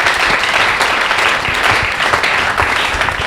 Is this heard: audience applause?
yes